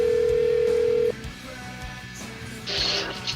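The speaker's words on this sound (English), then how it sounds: "let me dial it up old school radio style on the phone" A telephone is dialed for a call-in to a radio show: a steady dial tone sounds for about a second, then stops, followed by quieter clicks and a brighter burst of tone near the end.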